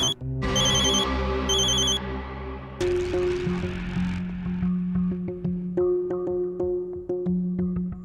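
A phone rings with bright electronic chiming tones, repeating in bursts, followed by a tonal melodic ring pattern that continues in a steady rhythm.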